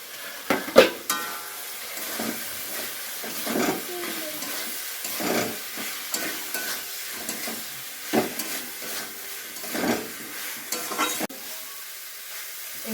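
Pre-fried cauliflower tossed into a hot pan of oil for a Bengali rohu fish curry, a steady close sizzle broken by repeated stirring scrapes and soft clatters.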